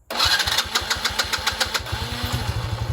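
Ford Mustang engine cranking over with rapid rhythmic starter pulses, then catching and settling into a close, loud idle after a valve-cover repair, with no talking.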